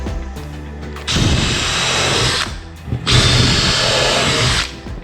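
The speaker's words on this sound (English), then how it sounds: "if you were just to screw straight through this little bit of wood, it would just split it straight away, so always pre-drill" Power drill pre-drilling countersunk screw holes through a thin strip of wood for a skirting board frame, with two loud sustained bursts of whirring motor separated by a short pause, close up.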